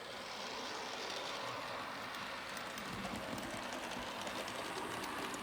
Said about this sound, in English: I'm just going to run some trains for a while